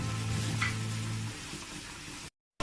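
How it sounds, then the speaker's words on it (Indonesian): Boiled stingray pieces go into a hot pan with spice paste, giving a steady close sizzle that softens partway through and then cuts off abruptly near the end. "Oke, sekarang kita masukkan ikan pari ya, ikan pari yang sudah direbus."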